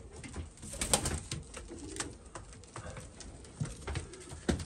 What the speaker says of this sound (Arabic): هاي بالنسبه لهذا الحمام اللي هنا